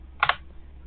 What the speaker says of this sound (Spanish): perdón si suena ya mi teclado porque lo cambié